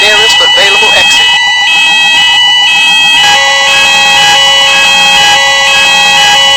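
A building fire alarm blares loudly and continuously with steady high-pitched tones, while a recorded voice announcement repeats an evacuation message over it.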